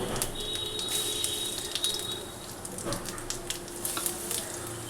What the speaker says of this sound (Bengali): দিয়ে দিলাম জিরে ফোড়নটা দিয়ে দিলাম